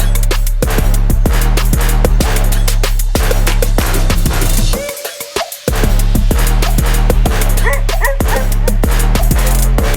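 Zerdava boar-hunting dogs bark loudly and nearly without pause, giving a dense run of rapid barks and yips over steady background sound, with one short break.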